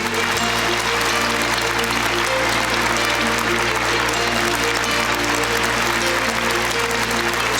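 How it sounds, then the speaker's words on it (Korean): A forum audience applauds to welcome a speaker, a loud, dense, unbroken clapping that holds steady for several seconds in a large hall. "여러분 따뜻한 환영의 박수 부탁드립니다."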